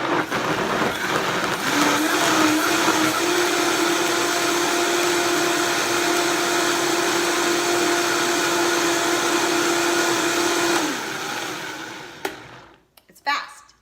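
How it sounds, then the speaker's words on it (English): A blender whirs loudly and steadily for about ten seconds while blending soup, its motor pitch holding constant before spinning down and stopping. "put it in the food processor or on your blender and blend it up"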